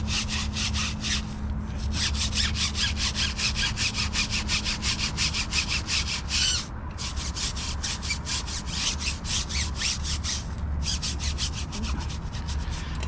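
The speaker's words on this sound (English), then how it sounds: "So we'll just scrub." A brush scrubs a car wheel and tire coated in cleaner, fast rhythmic back-and-forth rasping strokes close up, steady and loud with brief pauses and no talk.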